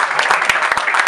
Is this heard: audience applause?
yes